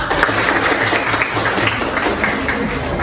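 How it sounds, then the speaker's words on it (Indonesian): Classroom audience of students clapping together on cue during an Indonesian lesson, a dense, steady patter of hands close by that fills the whole moment with no talking. "Oke, tepuk tangan."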